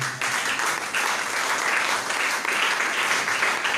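A church congregation at a divine healing seminar breaks into loud, sustained applause, dense clapping holding steady throughout.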